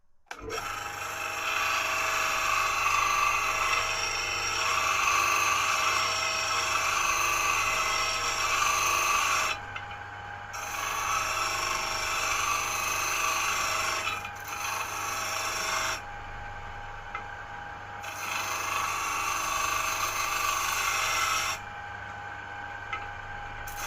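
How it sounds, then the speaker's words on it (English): Wooden pieces for speaker isolation pods being sanded, a steady rasping scrape that runs almost continuously, broken by brief pauses every few seconds, close and fairly loud with no talking. "we're going to now sand this side down"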